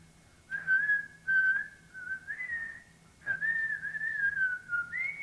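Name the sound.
recorded child whistling played back on a dictation machine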